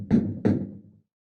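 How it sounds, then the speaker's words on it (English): Two firm knocks on a wooden door inside a family home, close and distinct with a short gap between them, then silence. "Someone knocks at the door."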